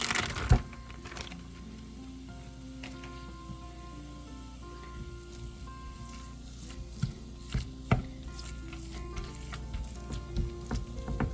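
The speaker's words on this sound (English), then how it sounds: "Now we're just going to add our ground beef." Ground beef sizzles and fries steadily in a pan on medium-low heat for cafeteria-style cheeseburger subs, with a few sharp clinks and scrapes of a utensil over the continuous crackle and no talking.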